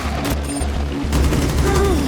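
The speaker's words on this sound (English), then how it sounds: "nearly doubled the damage output of Finka's 6P41 LMG" Finka's 6P41 light machine gun firing in Rainbow Six Extraction, a loud rapid stream of shots across the whole stretch with booming impacts, no talking.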